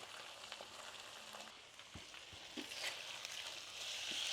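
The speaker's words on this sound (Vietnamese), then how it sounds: "Áp chảo vàng 2 mặt là được." Pork ribs pan-frying in a pan, a quiet continuous sizzle with occasional small pops and scrapes, heard alone without talk.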